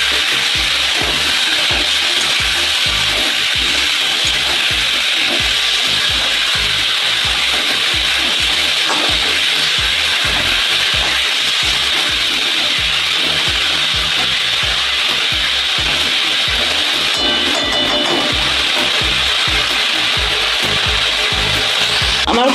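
A paste of ground coriander, ginger and cumin is stir-fried in a pan for a fish curry, with a constant loud sizzle and rhythmic scraping of a spatula against the pan throughout.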